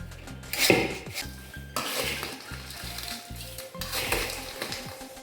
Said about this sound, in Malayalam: എല്ലാം കൂടെ നന്നായിട്ട് മിക്സ് ചെയ്തെടുക്കാം